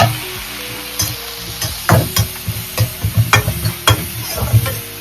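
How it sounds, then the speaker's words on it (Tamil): Two large tomatoes sautéing in a pan for amla pachadi, with repeated stirring scrapes and a soft steady sizzle underneath, close and moderately loud, no talking. "2 தக்காளி, பெரிய தக்காளி போட்டு நல்லா வதக்கலாம். வதங்கட்டும்."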